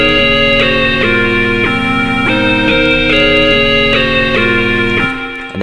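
FL Studio 3x Osc synth set to a triangle wave plays a repeating sequence of sustained chords changing roughly every half second, clean and loud, alone with no voices, and ending on a short decay.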